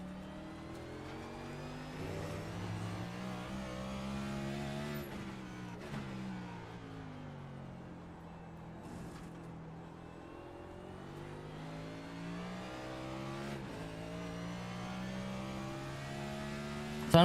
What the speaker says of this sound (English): I can hear the revs fluttering like I've locked up